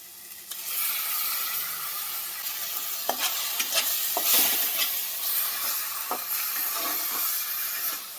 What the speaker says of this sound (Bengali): এবার এটা লাল করে কষাবো।